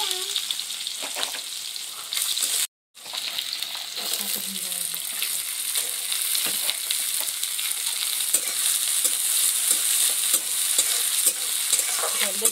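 Onions frying in hot oil for egg rice, a continuous crackling sizzle with frequent stirring scrapes, close and steady, broken by one brief dropout near the start; a voice murmurs faintly at times.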